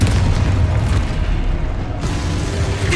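A Confringo blast spell explodes in Hogwarts Legacy, a loud booming burst of low rumble that stays dense and heavy for the full three seconds without any voices.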